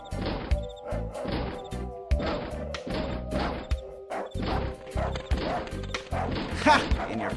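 A guard dog barks repeatedly in the PC adventure game Darkestville Castle. The rapid barks mix with crashing, thudding game effects, and a voice talks over them.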